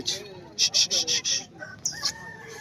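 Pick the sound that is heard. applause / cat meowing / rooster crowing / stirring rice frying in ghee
rooster crowing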